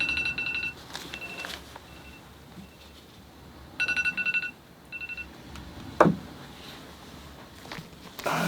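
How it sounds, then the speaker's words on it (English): A phone ringing in a quiet room, two bursts of electronic warbling tones with short follow-ups, mid-distance, along with a sharp knock-like thud and faint room noise. "my phone is ringing off the hook tonight."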